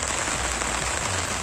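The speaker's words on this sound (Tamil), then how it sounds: "கோவை மாவட்ட மேட்டுப்பாளையம் மற்றும் அதன் சுற்றுவட்டார பகுதிகளில் சாரல் மழை பெய்தது." Light drizzle falling in the Mettupalayam area of Coimbatore district, a steady soft hiss of raindrops on surfaces, even and close, with no voices.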